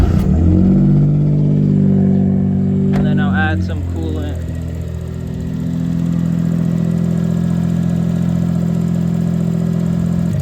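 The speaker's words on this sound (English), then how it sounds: "I'm gonna start the car now." A Suzuki Cappuccino's small engine runs at a steady, loud idle with a low droning hum and light clatter, while someone talks nearby.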